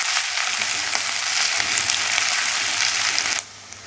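Garlic and ginger paste fries in a pan for a restaurant-style rajma curry, giving a steady, close, loud sizzle with faint stirring scrapes that cuts off abruptly near the end, leaving a quieter hiss.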